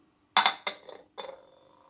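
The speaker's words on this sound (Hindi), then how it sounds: "अब इन्हें भी इसमें सारा कुछ मिक्स करेंगे।" Metal spoon clinking against a bowl while spices are mixed, three or four quick bright taps followed by a lighter scraping clatter, close and clear with no talk.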